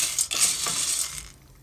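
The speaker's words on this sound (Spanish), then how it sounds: "Voy a dorar esta pasta tratando de que no se vaya a quemar" Pasta browning in a hot pan gives a steady, bright sizzle with faint stirring scrapes, fairly close and alone, easing off toward the end.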